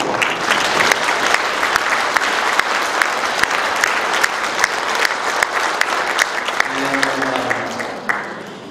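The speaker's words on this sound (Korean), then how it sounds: "여러분들 두 분 선배님을 위해서 박수 한번 해주세요." A packed audience at a book launch event for a city mayor in Icheon, South Korea, applauds continuously for two former mayors, with loud dense clapping that tapers off toward the end as a voice begins.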